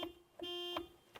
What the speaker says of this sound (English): Very cute sounding horn.